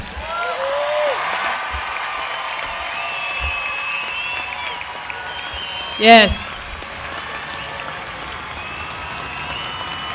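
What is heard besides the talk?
graduation audience applause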